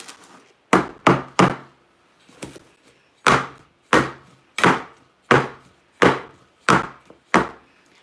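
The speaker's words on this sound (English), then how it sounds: "Tapping your pans gets air bubbles out." Cake pans filled with red velvet batter are tapped against a counter to knock out air bubbles, giving about a dozen sharp, hollow knocks. They come in an uneven rhythm, loud and close, with no talk.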